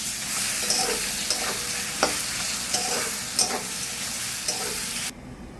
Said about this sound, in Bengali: এটা ভালো করে একটু কষিয়ে নেব।